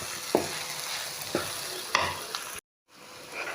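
Dal is stirred in a pot after coriander powder and salt go in, a soft sizzle under a few distinct spoon knocks and scrapes against the pot, close by, cut off by a brief silence near the end.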